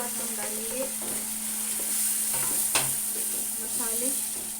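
Minced meat keema and chopped tomatoes sizzle in a hot pan as a spoon stirs and scrapes, a steady close frying crackle broken by a few sharp scraping strokes.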